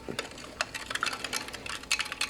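A spoon stirs lemon-lime MRE powdered drink mix into 12 ounces of water, making quick, uneven clinks and ticks against the container, close and fairly quiet.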